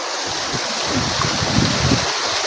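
A clear Darjeeling waterfall stream flows as a steady broadband rush with gentle surges, close and continuous, with no talking.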